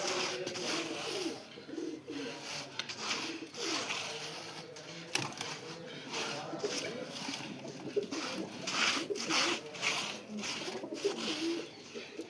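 Soft, repeated pigeon coos come from nearby amid faint shuffling and scattered background noise, fairly quiet throughout.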